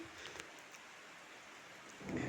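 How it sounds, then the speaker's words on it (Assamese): Faint, steady patter of rain falling, a soft continuous wash with a low rumble swelling near the end. "এয়া দেখিছে নহয় বৰষুণ দি আছে"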